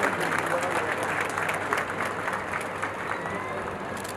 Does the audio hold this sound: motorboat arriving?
no